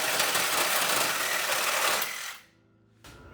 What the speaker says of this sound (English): We're just gonna cut this metal out